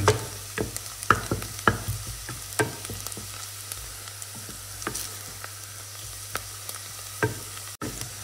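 Pork browns in a hot pan with a steady close sizzle, punctuated by repeated sharp clicks and scrapes of stirring, with no talking.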